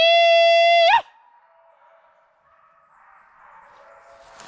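A hunting dog on a wild boar hunt lets out one loud, drawn-out yelping bark up close, then the woods fall nearly silent with faint distant rustling.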